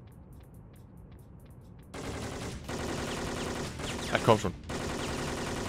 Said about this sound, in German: ich hab da auf ein ganzes Magazin auf den reingeballert